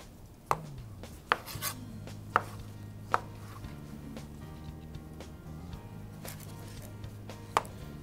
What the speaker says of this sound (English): Just want to take the tops off and then quarter them.